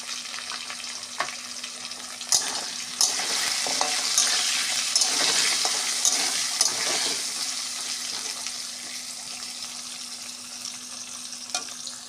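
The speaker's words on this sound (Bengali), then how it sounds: "একটুখানি হলুদ দিয়ে আলুটা ভাজবো।" Potatoes with turmeric sizzling in hot oil in a pan, a steady crackling fry with occasional scraping stirs and clinks, close and alone with no talking.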